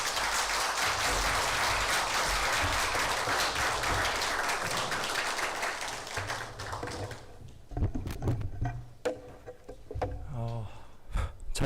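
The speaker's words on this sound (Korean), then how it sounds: "뜨거운 박수로, 따뜻한 박수로 환영해 주시면 고맙겠습니다." A chapel audience at Hanyang University applauds warmly to welcome a preacher. The loud, dense clapping lasts about seven seconds, then stops, leaving scattered taps and handling knocks near the microphone.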